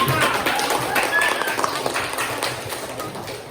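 Students in a classroom clap for a presenting discussion group, a brief patter of hands under overlapping voices and chatter, loudest at first and tapering off.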